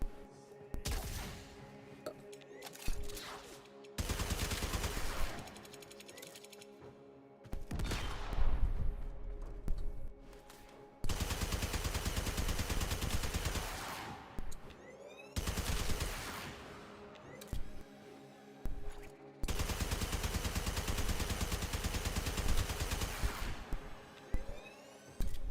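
Repeated bursts of video game gunfire in Warframe aimed at the player, arriving in several loud sustained volleys of rapid shots separated by short quieter gaps, with no talk over them.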